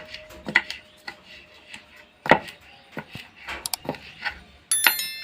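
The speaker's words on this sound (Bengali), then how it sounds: "এবারে একটা আলু কেটে নিব।" A new potato being cut very finely on a boti blade in a home kitchen, with a string of quick, crisp, close chopping clicks that arrive in irregular bursts, some sharp and bright, against quiet surroundings.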